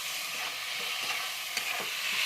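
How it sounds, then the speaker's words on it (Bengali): Ground spice paste fries in a pan for a chicken dish, giving a continuous close sizzle with soft stirring scrapes and one small clink partway through. "এই যে বাটা মশলা রান্না করছি।"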